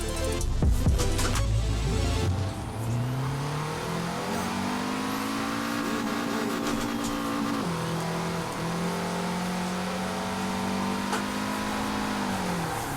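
Peugeot 205 T16 rally car in Forza Horizon 4 revving hard and accelerating through turns on a wet, rainy road, a loud steady engine note rising and falling with gear changes, alone without talk.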